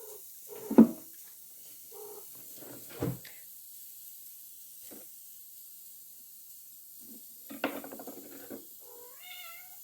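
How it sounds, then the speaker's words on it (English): Domestic cats meow and hiss in a kitchen, with several short, scattered calls of moderate loudness over a quiet background. "The cats are immediately feeling these things, so you hear them."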